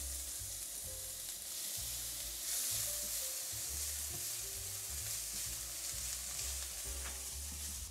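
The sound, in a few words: onion and garlic frying in a pan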